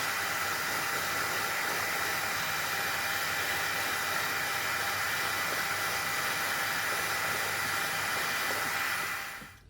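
A heat gun blows continuously while shrinking heat shrink tubing over an e-bike cord reel, a steady airy roar and hiss lasting nearly ten seconds before it stops.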